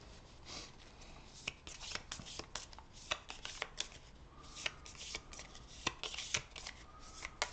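A deck of cards is shuffled during a Legendary Marvel Studios deck-building game: close, crisp riffling and snapping bursts repeat irregularly across several seconds, with no one speaking.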